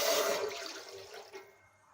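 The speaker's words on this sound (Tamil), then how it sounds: "நம்ம இப்போ பால் வந்து இந்த மாதிரி ஊற்றிக்கலாம்." Milk pours from a cup into a cooking pot for sago payasam, a brief liquid stream that starts strong and trails off within two seconds, heard alone.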